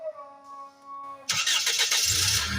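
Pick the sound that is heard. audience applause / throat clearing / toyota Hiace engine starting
toyota Hiace engine starting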